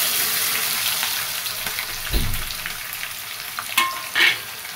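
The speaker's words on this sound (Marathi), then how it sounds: "आता हे बारीक कट केलेला कांदा टाकून घेते मी." Finely chopped onion hits hot oil with black pepper, cloves and cardamom for biryani, giving a close steady sizzle with a few stirring scrapes and clinks, and no talk.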